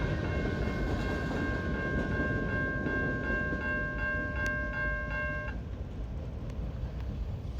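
A CN freight train of tank cars and boxcars rumbles steadily past up close, with a sustained multi-tone horn blast for about five seconds before it cuts off into the continuing roll of the cars.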